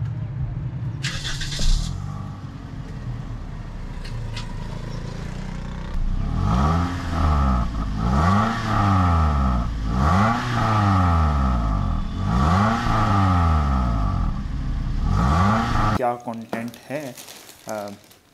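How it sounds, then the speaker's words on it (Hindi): A Toyota Corolla GLI 1.6 engine revs repeatedly through its stock exhaust, rising and falling in about five distinct pulses, loud and close, before cutting off into rustling. "अभी फ़िलहाल मैं आप लोगों को स्टॉक गाड़ी की आवाज़ सुनवा देता हूँ"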